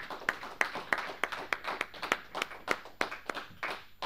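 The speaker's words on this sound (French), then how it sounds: "Acclamons pour le Seigneur Jésus-Christ." A church congregation claps for Jesus Christ in a steady, rhythmic beat, about three claps per second. The claps are fairly soft and even, with no voices over them.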